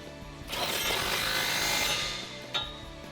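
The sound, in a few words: ratchet with 18mm socket tightening a Jeep body bolt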